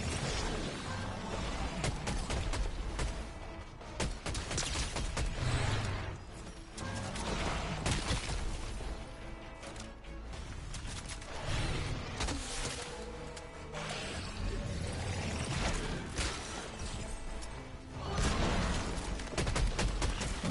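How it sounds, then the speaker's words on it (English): Gunfire from a battle royale video game plays loud and dense with almost no pause, a steady crackle of shots and impacts over a thick game soundscape. "Where's the gunshot coming?"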